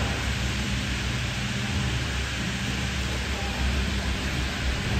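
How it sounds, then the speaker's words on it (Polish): Steady, even evening rain hiss at the Sölden ski resort fills the clip, a constant wash of noise with no breaks or voices. "szkoda, że pada deszcz"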